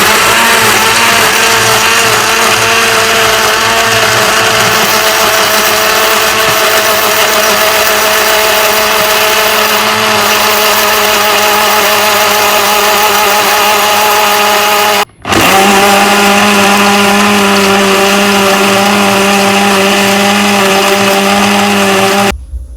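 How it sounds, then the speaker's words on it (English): A blender whirs loudly and steadily as it blends a passion fruit smoothie with ice and a little salt, its motor drone continuous apart from a brief cut-off partway through. "Then work your blender."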